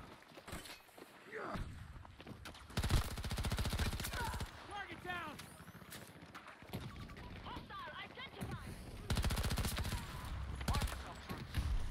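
Battlefield 2042 gameplay with bursts of rapid gunfire and scattered shots in a busy battle, mixed with footsteps and bright game effects, while a player talks over the action.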